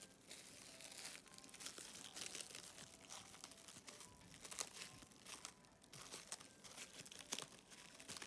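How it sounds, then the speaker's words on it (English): Shrink wrap being cut and pulled off a bonsai tree gives continuous soft plastic crinkling and crackling, with irregular bursts of rustle and tearing throughout, fairly faint and close, and no voices. "Cut all the shrink wrap."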